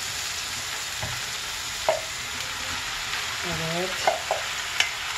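Tripe sizzles in a pan as it is sautéed with peppers and onions, making a steady hiss of frying broken by a few sharp clacks from stirring, while someone says a brief word in the middle.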